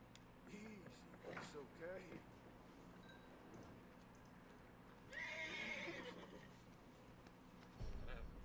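Horse neighing and whinnying with clip-clopping hooves in the video game Red Dead Redemption 2, heard amid game ambience and faint talk, with a brighter whinny near the middle and a sharp burst near the end.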